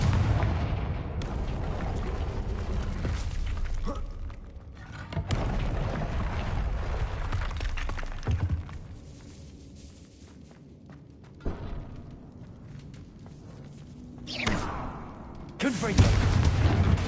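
Repeated Confringo blasting-spell explosions in the video game Hogwarts Legacy, with several loud booming bursts over roughly seventeen seconds, spaced between quieter stretches and rumbling ambience.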